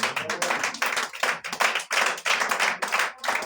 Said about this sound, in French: Si tu vas applaudir, applaudis.